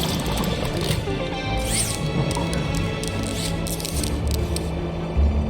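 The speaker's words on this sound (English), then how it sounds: "Water refill complete." Continuous low gurgling and splashing as a heavy water tank refills in the video game Beyond a Steel Sky, with faint mechanical clicks over a steady background hum.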